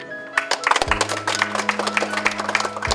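Clapping crackles from a crowd at a government gathering for the regent in Maibrat, a quick patter over a sustained low electronic hum, with a voice briefly audible at the start.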